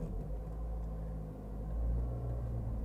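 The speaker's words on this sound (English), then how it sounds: "I'm going to slowly release the clutch while adding some gas." The engine of a manual car hums in a low, steady rumble as the clutch is slowly released while gas is added, swelling slightly partway through, close and continuous with no talking.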